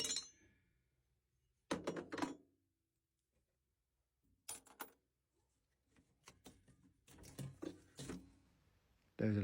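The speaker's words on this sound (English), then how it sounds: "Now I take the 30mm nut off." A 30mm nut is worked off the fan of a combi boiler, giving short bursts of metallic clinks and rattles close by, separated by near-silent pauses.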